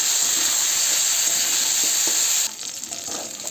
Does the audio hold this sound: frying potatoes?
yes